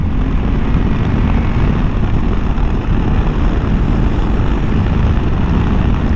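A Yamaha Tenere 700 motorcycle engine pulls in third gear at low RPM, a loud, steady low rumble with heavy wind roar and no speech.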